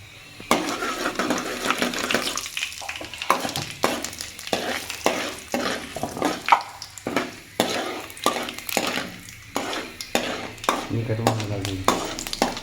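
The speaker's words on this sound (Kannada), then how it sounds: "ಚಟಪಟ ಚಟಪಟ ಸಾಸಿವೆ ಅಂತೈತೆ" Mustard seeds crackle and pop in hot oil alongside urad and chana dal, sharp bursts repeating unevenly and close, with a short hiss of frying near the end and a voice talking over the spattering.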